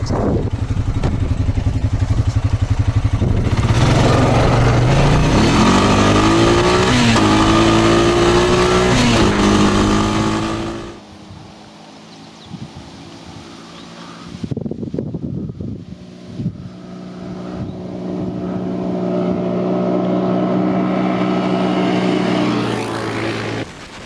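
A 2021 Honda Foreman 520 ATV engine runs loud and steady at high revs during a top speed run, its pitch climbing through gear changes, then dropping away to near quiet before the engine builds up again.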